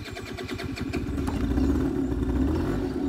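A 1993 Yamaha Jog CY 50 two-stroke scooter engine cranks with rapid clattering pulses, then catches and settles into a loud, buzzing idle close by.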